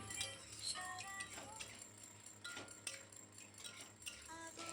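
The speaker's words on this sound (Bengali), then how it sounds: "ফুলকপি দিয়ে সব কিছু ভালোভাবে মিশিয়ে নিচ্ছি।" Fried cauliflower and spices stirred in a pan with a utensil, repeated light scraping and metallic clinks against the pan under a faint background hum, no clear voices.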